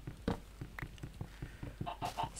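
A Minecraft chicken clucks repeatedly in a steady, rhythmic series of short pecking clucks, moderately close and clear with no talking over it.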